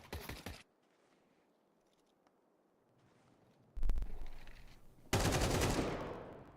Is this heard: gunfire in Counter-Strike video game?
yes